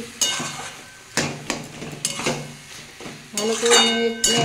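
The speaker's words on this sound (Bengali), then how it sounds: "নাড়তে হবে, যাতে তলায় ধরে না যায়" Brinjal mash stirred in a pan, with a spoon scraping and knocking against the metal in irregular strokes, close and fairly loud, over a faint sizzle.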